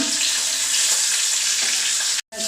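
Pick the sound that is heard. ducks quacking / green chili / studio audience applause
green chili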